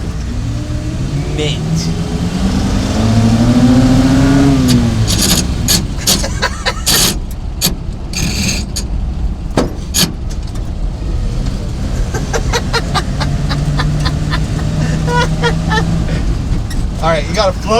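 An old GMC K20 pickup truck driving, its engine revving and running rough with a diesel-like note, heard steadily throughout with people talking over it.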